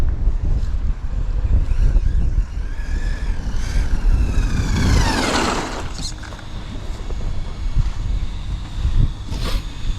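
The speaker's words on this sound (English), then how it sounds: "Apologies if you can't hear me, it is really windy." Strong outdoor wind buffets the microphone in loud, uneven gusts, while a nearby off-road RC car motor whines up and down in pitch over it.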